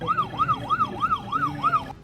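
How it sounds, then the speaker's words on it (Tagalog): Wailing siren of a BJMP jail management van truck in Digos City, rising and falling in a steady repeating cycle, about three sweeps per second, loud and continuous over low traffic rumble. "madunggan ang wangwang sa van truck sa BJMP Digos City"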